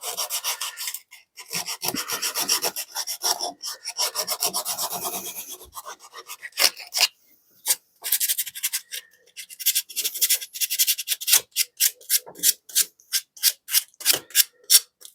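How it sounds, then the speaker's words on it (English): Sandpaper rubbed over a wooden saw handle makes rasping strokes, first uneven and overlapping, then settling into quick, regular back-and-forth scrapes close by, with no speech. "might as well sand the whole handle down"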